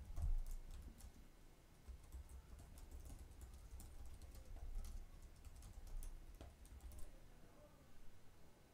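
Computer keyboard keys tapped while a commit comment is typed into version control software, giving soft, quiet, irregular clicks over a faint low hum.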